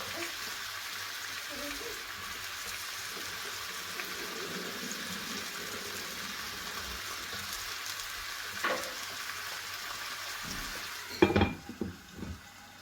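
Steady, soft sizzling of mushrooms cooking slowly over low heat in a covered pan, with a few brief clinks of utensils near the end.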